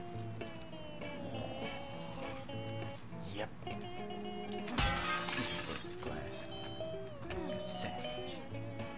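Glass shatters in a sharp crash midway through amid The Last of Us Part 2 gameplay, set against tonal music and ambience, with scattered quieter clinks around it.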